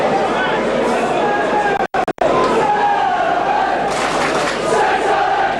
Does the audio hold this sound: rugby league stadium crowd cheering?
yes